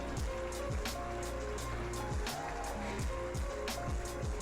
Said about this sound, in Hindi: थोड़ा सा पानी का छींटा दूंगी तो फिर मज़ीद ऊपर ऑयल आना शुरू हो जाएगा।